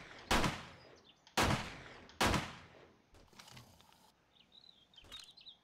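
Pistol shots fired at a bear in 7 Days To Die: three loud, sharp cracks spaced about a second apart, each with a short decaying tail, followed by quieter scuffling and faint creature noises.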